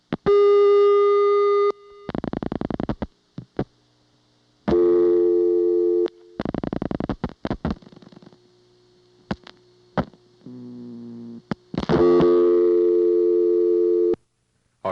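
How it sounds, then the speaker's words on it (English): A Siemens motor switch telephone exchange in Ocala-Silver Springs, Florida, with loud line tones and bursts of pulsed sender signalling between short gaps, steady buzzing tones alternating with rapid clicking trains. "you'll hear the sender dial 2 digits after I'm through dialing"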